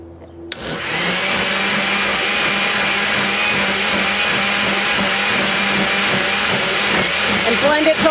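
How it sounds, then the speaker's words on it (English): A blender grinding paper fibers and water starts abruptly and runs with a loud, continuous whirring grind that holds steady for several seconds. "blend it till it starts making kind of a grindy sound, like that"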